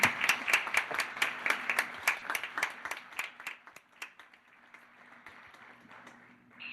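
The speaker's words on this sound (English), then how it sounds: "I ask you a round of applause at the end" Summit audience in Porto applauding, a handful of distinct claps at first that thin out and fade into scattered, quieter clapping over a faint hum, small crowd in a room.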